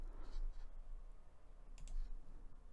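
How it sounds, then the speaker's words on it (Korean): Quiet, close clicking of keys typed on a computer keyboard at a desk with a microphone in front, irregular bursts of taps with a faint background hum. "마이크 너머로 키보드를 보고 있어서 약간 타이핑이 어렵지만 최선을 다해 보겠습니다"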